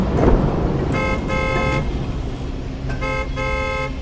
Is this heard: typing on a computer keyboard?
no